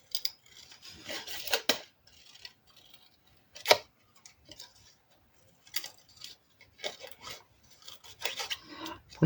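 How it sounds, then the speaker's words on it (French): Scissors cut paper pieces for an advent calendar craft in short, irregular rasping snips close by, with quiet pauses in between. "je vais découper mes éléments et venir les replacer"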